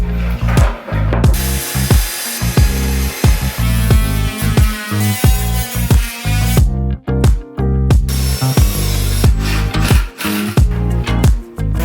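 A power tool cuts a cutout through plywood while a closet is converted into a Murphy bed, giving a loud, continuous whining buzz with repeated short bites and pauses as the blade works through the wood.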